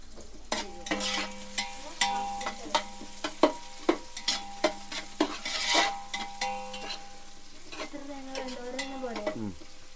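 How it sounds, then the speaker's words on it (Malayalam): Mutton in its stock sautés in a pot for Ramadan rice kanji, spoon scraping and clinking rhythmically against the metal over a steady sizzle, close by, ending in a sliding scrape. "ഇത് നന്നായിട്ടൊന്ന് വഴണ്ടി വരട്ടെ കേട്ടോ"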